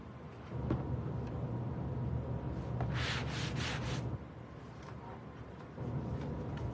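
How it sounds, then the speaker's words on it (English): Steady scraping and rubbing of a sanding block on a tin can craft, with a brief burst of quick, harsher strokes in the middle. "Just go back over it with the sanding block and it takes it off a little bit."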